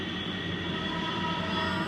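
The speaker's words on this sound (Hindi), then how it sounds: "ट्रेन वाला हॉर्न लगा किसी बाइक में।" A train-style horn fitted on a motorbike blares in one continuous, loud tone that echoes and reverberates through a tunnel.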